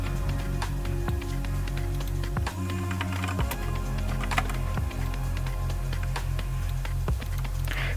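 Rapid keyboard typing to chat during a Roblox Brookhaven roleplay game, a steady run of close clicks and taps over looping game music and background sounds.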